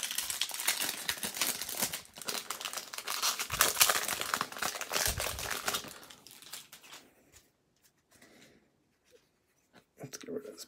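Paper wrapper of a 2019 Bowman Draft baseball card pack crinkling and tearing close up in loud bursts, then fading into sparse small rustles with brief speech.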